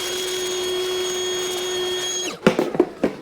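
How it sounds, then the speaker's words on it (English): A vacuum cleaner drones steadily while pulling dust off an Acura MDX engine, then powers down, followed by a few clattering knocks and taps nearby. "And we'll just vacuum this really good first so we don't get any dirt or grit inside."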